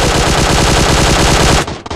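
Loud, continuous automatic gunfire in the PUBG Mobile video game, a steady rapid stream of shots close up that cuts off near the end.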